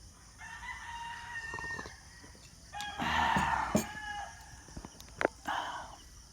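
Several chickens cluck and a rooster crows on a farm, mid-distance and moderately loud, calls overlapping irregularly with a few sharp knocks mixed in.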